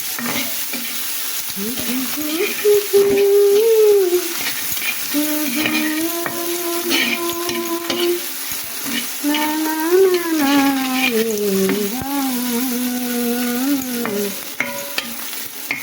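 Garlic, onion and prawns fry in a pan under a steady sizzle with occasional stirring scrapes, while a loud tonal melody, like music or a whistling tone, runs over most of it.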